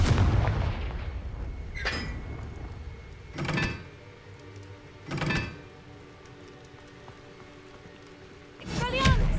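Confringo fire spells blast in Hogwarts Legacy on PC: three separate booming bursts with a fiery crackle, spaced a couple of seconds apart, over a low steady game ambience.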